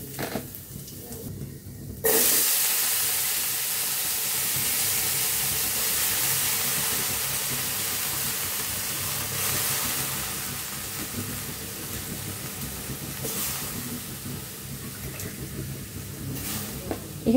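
Vegetables hit hot ghee with red-browned crushed garlic, bursting into a loud, steady sizzle and steam hiss that carries on evenly for the rest of the clip, after a brief quieter moment at the start.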